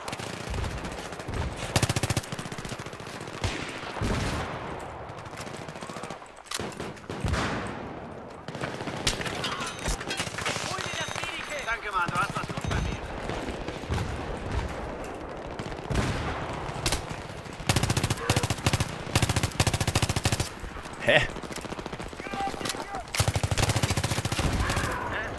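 Machine gun fire from the video game Battlefield 3, sustained automatic bursts and dense fusillades running loud and continuous throughout, with brief pauses between volleys.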